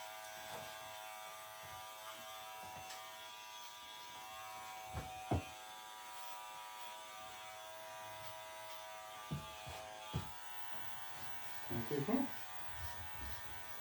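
An electric hair clipper trimming a man's hair for a short modern pompadour haircut, a faint steady buzz throughout with a few brief bumps and clicks.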